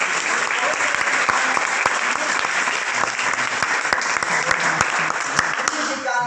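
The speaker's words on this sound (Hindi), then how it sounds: "इनके लिए जोरदार तालियां से स्वागत करें।" Steady, dense applause from a college audience fills the whole stretch, many hands clapping together at an even loudness before tapering slightly at the end.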